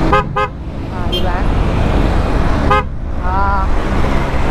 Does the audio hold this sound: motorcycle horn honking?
yes